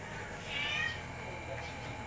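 A pet cat gives a single faint meow in the background, set against low room hum in a quiet indoor space.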